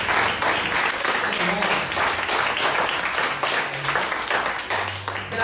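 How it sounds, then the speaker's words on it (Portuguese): A church congregation claps dense and steady throughout, a crowd applauding Jesus during a worship service. The clapping is loud and continuous with a few faint voices mixed in. "Aplauda Jesus aí."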